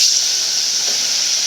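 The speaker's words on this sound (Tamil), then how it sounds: "வெங்காயம் வதங்கிச்சு." Onions sizzle as they sauté in a pan for a home-cooked Karthigai Deepam meal, a steady, close, even hiss with no pauses and no voices.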